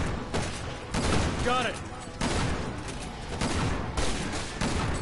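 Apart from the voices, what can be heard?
shotgun fire in the video game Resident Evil 6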